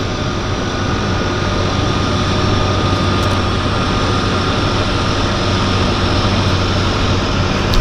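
A Harbour Air seaplane lands at Vancouver's downtown harbour, a loud, steady propeller-engine drone that holds evenly throughout with no talk.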